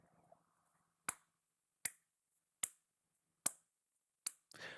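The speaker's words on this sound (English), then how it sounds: "I don't even know if you can hear me clapping because I have this microphone on." Five sharp, evenly spaced hand claps sound close and crisp against near silence, followed by a brief rustle.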